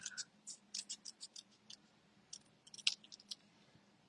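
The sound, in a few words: cutting with scissors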